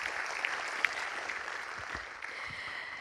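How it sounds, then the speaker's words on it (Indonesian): Applause from an audience at a national talk show about new and old political parties registering, with some attendees joining virtually; steady, moderately faint clapping wash running throughout with a few sharper claps standing out. "Tepuk tangan yang meriah untuk kita semua yang sudah bergabung di sini."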